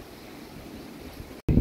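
A strong dry windstorm with no rain, strong enough to topple a tree, roars as a steady, rushing outdoor wash, then cuts out briefly before a loud gust buffets the microphone.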